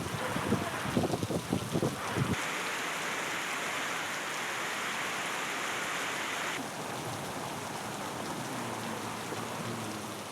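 Heavy monsoon rain pours steadily onto surfaces in a broad, continuous hiss, with a few sharper splashes at the start and the wash shifting in tone partway through.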